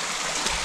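A mountain stream flowing steadily along a Sierra Nevada trail in Spain, its broad rushing wash close and continuous, with a faint gurgle and no voices.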